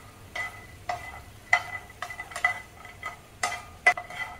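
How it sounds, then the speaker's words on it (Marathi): Fox nuts (makhana) roast in ghee in a pan, with quiet, intermittent metallic clinks and scrapes of a spoon stirring against the pan over a faint sizzle. "एकदम कुरकुरीत होईपर्यंत आपल्याला हे मखाणे भाजून घ्यायचे आहेत"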